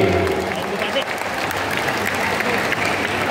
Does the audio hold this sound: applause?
yes